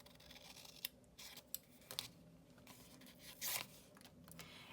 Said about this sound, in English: So I'm going to cut this box in half.